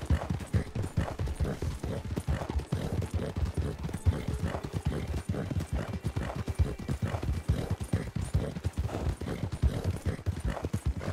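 Several horses trot steadily in Red Dead Redemption, a dense, continuous clip-clop of hooves close by, with an occasional faint whinny and no talk.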